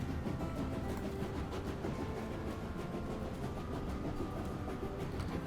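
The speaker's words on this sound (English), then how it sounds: "It might come down to a case of how far this train can coast." A train rolls steadily along rails in the Train Life simulation game, hauling the Orient Express with a continuous low rumble and faint rail clatter, with no voices.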